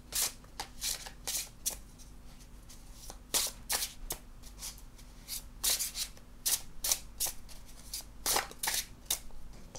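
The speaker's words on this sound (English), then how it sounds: "I should shuffle these a bit more." A deck of tarot-style oracle cards is shuffled by hand in repeated crisp riffling bursts, close and fairly loud, with a steady low hum underneath and no talk.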